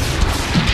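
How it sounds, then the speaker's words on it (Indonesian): A short, loud burst of rumbling blast noise, dense and booming, like an explosion close by, in the anime Tougen Anki. "secara tiba-tiba terjadi ledakan yang membuat sang MC merasa terkejut"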